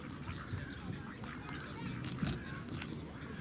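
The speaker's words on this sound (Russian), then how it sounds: "Какие уточки." Ducks quacking and honking in a busy flock at a zoo, steady chatter close by with a voice murmuring faintly underneath.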